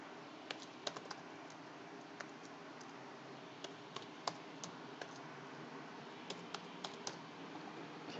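Computer keyboard typing in a quiet room, scattered light key clicks coming in loose irregular bursts, faint and close, no voices.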